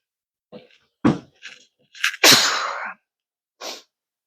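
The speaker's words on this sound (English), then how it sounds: "I am fixing to sneeze." A single loud, close sneeze preceded by a few short sharp inhales, with a brief breathy sound afterward in an otherwise quiet room.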